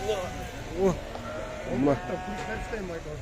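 Lambs and rams at a livestock market bleat twice, close and clear, over a constant murmur of people talking.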